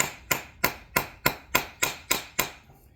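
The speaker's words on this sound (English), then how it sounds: "Use my nylon hammer." Eight evenly spaced sharp taps of a nylon hammer striking the plunger of a Graco GMAX II 3900 paint sprayer pump, a steady rhythm of clacks close by, fading slightly at the end.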